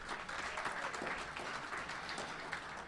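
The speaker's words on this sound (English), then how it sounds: "A big round of applause for all of you." Steady, dense applause from a room of attendees at a policy leadership breakfast, continuous and even throughout with no pauses.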